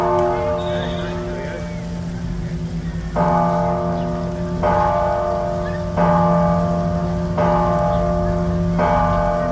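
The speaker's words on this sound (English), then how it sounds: "sounds like we're just in time for the church bell" A church bell in Mexico rings loudly and close, with several evenly spaced strikes whose bright tones ring out and overlap, over a steady low background rumble.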